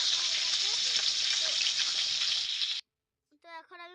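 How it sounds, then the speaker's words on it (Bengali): Fish frying in oil over a dung-cake fire in a village kitchen makes a loud, steady, close hiss that cuts off abruptly, followed by a brief spoken voice. "তো ভালো করে মাছগুলোকে আমি লাল লাল করে ভেজে দিচ্ছি, এদিক সেদিক উল্টে দিচ্ছি।"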